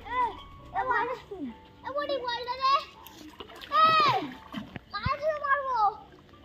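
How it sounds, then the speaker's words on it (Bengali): Children bathe in a village pond on a hot day, with light splashes and water sloshing under their near, lively chatter and calls, which dominate throughout. "তো পাপাই সোনারা স্নান করছে।"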